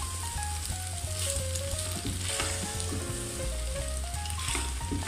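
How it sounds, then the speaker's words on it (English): Pasta with chicken, vegetables and oyster sauce sizzles and fries in a pan while being stirred together, a loud continuous close crackle with scraping stirring sounds and no speech. "Now we can add up our pasta. So we're just gonna mix it together."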